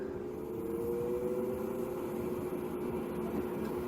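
An exhaust fan motor drones steadily with a low hum and a faint rising tone, continuous and moderately close, without any speech.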